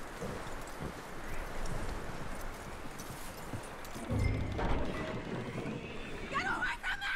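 Steady clip-clop of horse hooves walking at an even pace in Red Dead Redemption 2, mixed with rustling ambience and a brief low thump partway through.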